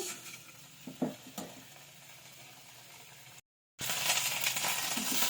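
Drumstick leaves fry with turmeric in a pan for tomato chutney, a soft, steady sizzle with a few light stirring clinks, briefly cutting out before returning louder.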